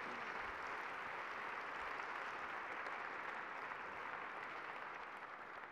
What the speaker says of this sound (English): So give them a huge round of applause